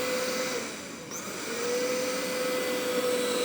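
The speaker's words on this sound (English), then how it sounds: "Turbo mode, for example, is a little bit louder," Taroma Robi1 robot vacuum running in turbo mode, a steady loud suction whoosh with a constant whine, close up and continuous, no talk.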